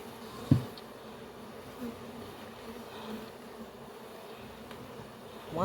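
Honey bees from a swarm, just knocked into a hive box, buzz in a low continuous drone after a sharp thump at the start, staying faint and steady.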